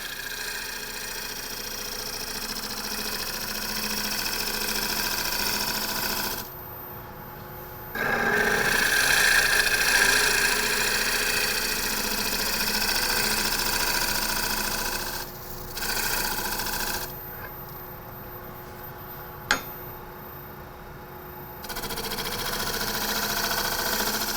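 A wood lathe spins a large natural-edge bowl while a gouge shapes it, giving a steady mechanical hum with the cutting noise rising and dropping out as the tool comes on and off the wood.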